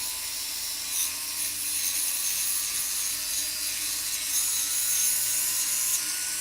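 A sanding disc grinds steadily against a soldered joint, giving a continuous bright, hissing abrasion that stays at an even level throughout with no talk.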